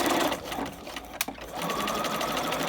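A sewing machine stitches around a coat cuff corner on a short stitch length, with a close, continuous mechanical whir and rapid needle chatter and a brief click partway through.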